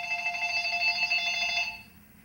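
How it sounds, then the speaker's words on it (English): A telephone bell rings in a continuous trilling burst, fairly loud and close, then cuts off and leaves a quiet room with no voices. "Moments later, she says her phone rang with yet another threat."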